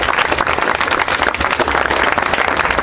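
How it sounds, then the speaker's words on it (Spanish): Crowd applause at a youth tournament award ceremony in Córdoba, dense and continuous, loud and close throughout with no talk over it. "Para todos ustedes quiero que se den un aplauso"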